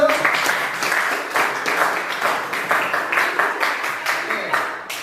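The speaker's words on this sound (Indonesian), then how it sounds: "Kasih tepuk tangan dulu." Classroom students clap after a presentation, a rhythmic, patterned round of hands beating together in regular pulses at moderate volume, carrying on for several seconds before easing off.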